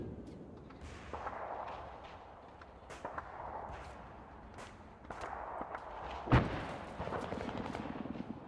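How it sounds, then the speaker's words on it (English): Gunfire crackles during a Marine special operations team training exercise: scattered shots ring out at a moderate distance, with one sharp, louder crack standing out among them and a faint rustle of movement underneath. "Taking fire from the southwest."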